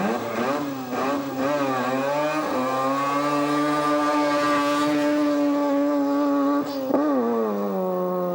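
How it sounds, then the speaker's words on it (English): A 13B peripheral-port rotary Mazda-powered two-wheel-drive Escort rally car revs hard off the line at a rally sprint, with rising and falling wails and gear-change dips, heard from a moderate distance. "Just listen to the revs it turns as he gets off the line."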